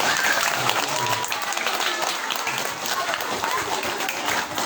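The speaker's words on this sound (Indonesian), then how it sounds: "Tepuk tangan semuanya untuk para guru kita." Crowd applause for teachers at an Isra Mi'raj religious gathering, a continuous wash of clapping from a large audience, fairly close and steady.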